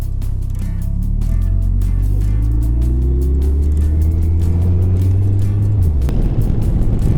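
A motorcycle rolls to a gentle controlled stop on both brakes, its engine note falling steadily from a steady drone to a low idle rumble, close and continuous, with wind buffeting throughout.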